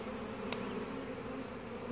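Honey bees swarm around a coffin hive that holds three strong colonies and give off a steady, dense, close buzzing drone, with one brief louder pass of a single insect.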